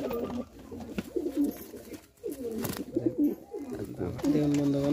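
Giribaz pigeons cooing in repeated soft bursts, close by, with a voice speaking between and over the calls.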